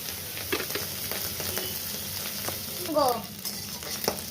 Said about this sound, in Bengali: আমি এবারে একটু হালকা ভেজে নিচ্ছি